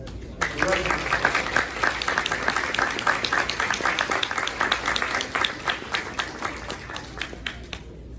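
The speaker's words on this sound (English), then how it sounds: "So I think we should acknowledge all of them tonight with our applause." Guests at a St Elias banquet applaud police officers and first responders with a burst of crisp, crowded hand-clapping that carries strongly for about eight seconds, with some voices mixed in, then fades at the end.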